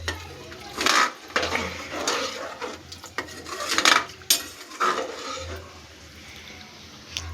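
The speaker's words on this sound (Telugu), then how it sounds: "బాగా స్టిర్ చేసుకుంటున్నాము" A spoon scrapes and clinks against a cooking pot while pulao is stirred after water is added, with irregular metallic knocks and scraping strokes, close and moderately loud, no voices.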